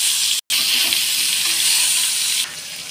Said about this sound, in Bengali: পেঁয়াজ কিন্তু প্রায় ভাজা হয়ে এসেছে